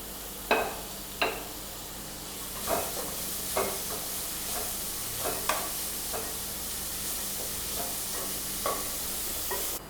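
Carrot, beetroot, curry leaves and mint sauté with onion in a pan, giving a steady sizzle broken by a series of sharp stirring scrapes and clacks, close and alone with no voices.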